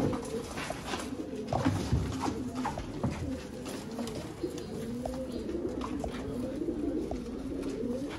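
Pet pigeons in a coop coo in overlapping, rolling throaty calls that carry on steadily and close by, with some light rustling and no speech.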